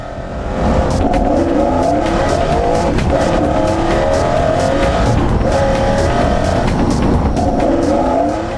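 A supercar capable of 386 km/h accelerates hard, its engine roaring loud and continuous through several rising gear pulls, with tire squeal mixed in and no voices.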